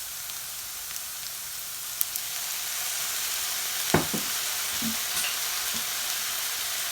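Onions, ginger, garlic and green capsicum sizzle and fry steadily in a pan as dark soy sauce goes in for cabbage manchurian gravy, with a few stirring clinks and spatula scrapes over the constant hiss.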